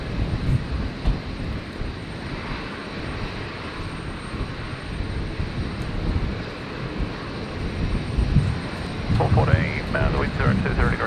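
Deep rumbling engine roar of a Qantas airliner coming in to land on runway 01 right at Brisbane International Airport on a stormy night, steady and broad, swelling slightly toward the end.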